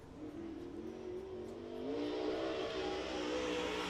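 Race car at Muskingum County Speedway, a dirt oval in Ohio, on a quick shakedown lap: steady engine drone that swells louder midway as the car accelerates, alone without talk.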